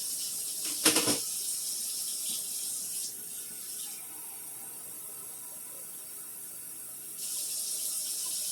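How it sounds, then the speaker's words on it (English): A short splash of water at the start, then a steady hiss of running water pouring into a soup pot, easing off and returning near the end. "Adding the water."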